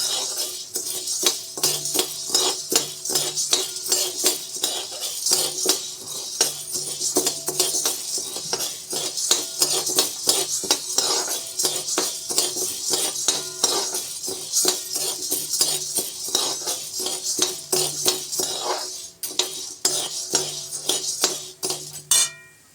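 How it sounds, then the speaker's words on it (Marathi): Chana dal is dry-roasted in a pan, a spoon scraping and stirring with constant rattling, clinking strokes at a brisk, steady rhythm, close and fairly loud. "दोन वाटी हरभरे डाळ भाजायला घेतलेली आहे हरभरी डाळ पण आता खमंग भाजून घेणे"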